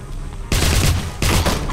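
Two bursts of rapid automatic gunfire in the Wolfenstein video game, loud and close, separated by a short pause.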